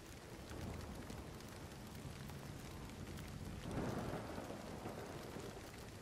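Thunderstorm with rain and hail in the survival video game Nightingale: steady dense rain hiss with a deep rumble of thunder swelling midway, heard close and continuous, with no talking.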